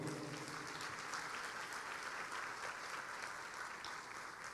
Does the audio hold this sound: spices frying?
no